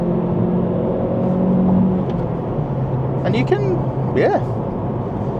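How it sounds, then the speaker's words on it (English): A Vauxhall Astra's naturally aspirated engine drones steadily while driving, its hum running continuously beneath a man's close-up talking, with no clear rev spike standing out. "can rev this engine out. It does love to rev."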